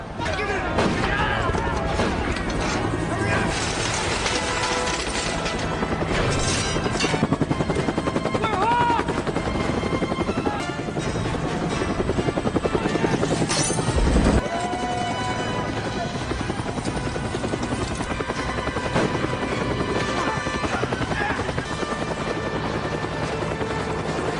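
A helicopter fires on prisoners in a prison-break action scene: a constant loud rotor drone with scattered bursts of gunfire and impacts, overlaid with dramatic music and occasional voices.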